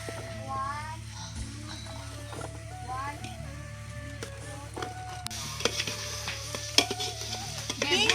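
Ginger garlic paste fries in a pot for a village-style biryani with a steady sizzle and scraping stirs, mostly under overlapping chatter that includes a voice.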